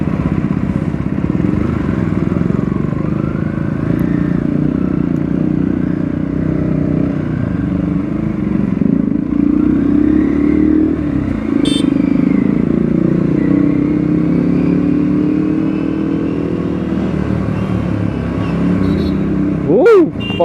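An Aprilia RS 457 motorcycle rides through city traffic with a loud, steady engine drone that swells and eases as the clutch is worked, while a rider talks over it and a brief sharp noise closes the stretch.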